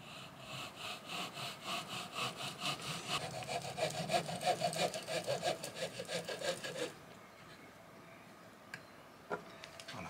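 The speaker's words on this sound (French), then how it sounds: "Je viens découper ça simplement avec une scie." Rhythmic back-and-forth strokes of a hand saw cutting through EVA foam, close by, for several seconds, then stopping and leaving quiet with a couple of faint knocks.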